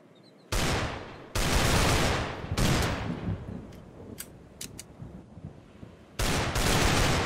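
Gunfire from a Roblox shooter game: long loud bursts of rapid automatic fire alternate with a few short isolated shots, all close and with no talking.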